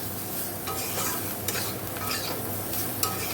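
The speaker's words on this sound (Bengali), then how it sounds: "দেখো জিরের গুঁড়ো আর একটু কাশ্মীরি লঙ্কার গুঁড়ো দিয়ে ভালো করে কষে নিয়ে জল ঢেলে দেবো" Cumin powder and Kashmiri chili powder being stir-fried in a pan while making a pabda fish curry with potato and brinjal, giving a steady sizzle with spatula scraping and a few sharp clicks, close and continuous without talk.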